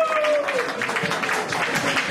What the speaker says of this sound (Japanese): 皆さん盛大な拍手をもう一度お願いします